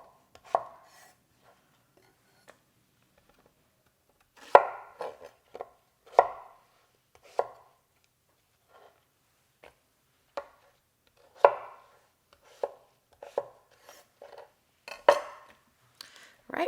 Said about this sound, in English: I'm gonna put the rest of this zucchini into chunks in here